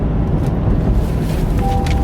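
A mid-engine C8 Corvette's engine hums steadily from behind the cabin, a loud, low, continuous drone with no talking.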